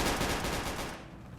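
A short burst of rapid gunfire rattles in the Roblox Vietnam War game Unit 1968, loud at first and then fading out over about a second.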